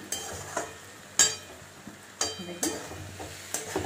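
Dalma vegetables stirring and frying in a pan over a high flame, with a soft sizzle broken by several sharp scrapes and knocks of the utensil at irregular intervals, close by.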